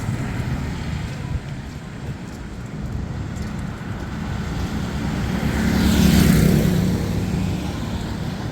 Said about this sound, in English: There's trikes coming in to drop people off somewhere and coming back